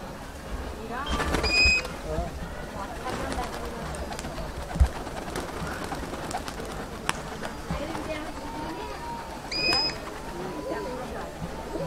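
Pigeons in a loft at Murshidabad coo intermittently in low, soft bursts, with a couple of sharper calls, while a person talks nearby over a steady background.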